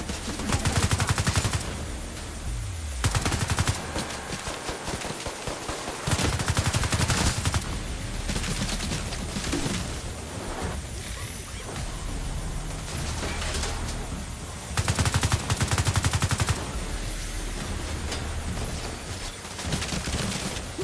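Sustained SMG fire in The Division 2 rattles in long, dense automatic bursts with heavy low-end thumps, loud and close, continuing almost without pause across the whole stretch.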